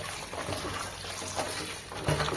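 Water spinach and pumpkin greens washed in water, continuous close splashing and trickling with a small slosh near the end, no talk.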